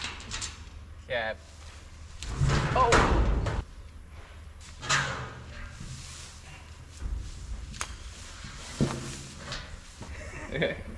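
Metal grain bin doors bang and slam shut on a hot day, a few loud clanks and scrapes mixed with brief exclamations and people talking nearby.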